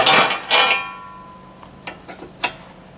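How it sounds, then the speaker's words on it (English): A wrench works the jam nut on a tie rod of a lifted Subaru during an alignment, giving two loud metallic clanks followed by several lighter taps and clicks, close by. "We're going to loosen up the jam nut here"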